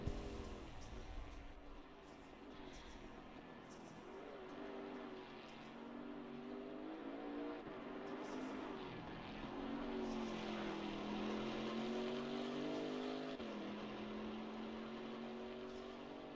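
A GT4 race car engine at Oulton Park drones steadily from inside the cabin, its pitch rising and falling through gear changes and corners, moderately loud and continuous without talking.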